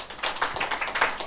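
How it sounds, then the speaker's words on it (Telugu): A small group clapping together at a home thanksgiving gathering, brisk rhythmic claps heard close and fairly loud, with no talking. "చప్పట్లు కొడదాం ఒకసారి."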